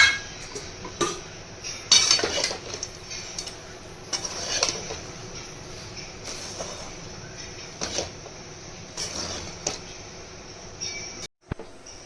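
A spoon stirs garam masala powder, fried coconut and peanuts into vegetable chop filling in a pan with the gas off, giving intermittent scraping and clinking strokes, fairly close, alone.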